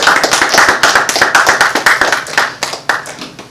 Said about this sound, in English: Let's give Almighty Yah a hand clap praise.